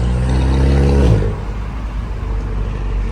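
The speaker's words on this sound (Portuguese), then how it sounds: "o barulho do carro andando é esse, ó" Volkswagen Jetta engine while driving, a loud steady drone with a low humming tone that drops off after a second and settles into a rougher rumble.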